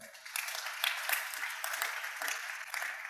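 A church congregation applauds in a sustained, steady wash of clapping, moderately distant and fairly soft, continuing for several seconds without a break.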